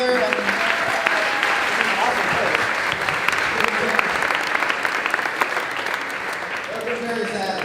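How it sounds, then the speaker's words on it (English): Sustained audience applause at a Brooklyn bookstore event, a dense, even wash of many hands clapping for several seconds with a faint voice underneath. "Keep clapping for Powerhouse for putting this all together."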